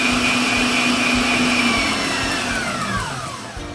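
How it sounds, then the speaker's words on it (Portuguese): Electric stand mixer whipping egg whites for sponge cake batter, a loud steady motor whine held close, then winding down as the speed drops toward the end. "já liguei essa batedeira"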